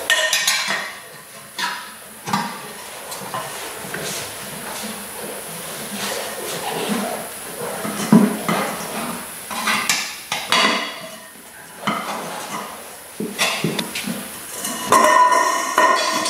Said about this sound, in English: Now I'll use the tire spoon to try to break it off.